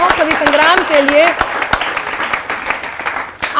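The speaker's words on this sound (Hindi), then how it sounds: "एक बार जोरदार तालियां हो कवि संग्राम के लिए।" An audience at an Independence Day poetry show applauding, steady loud clapping from many hands while a voice sings or calls over it early on.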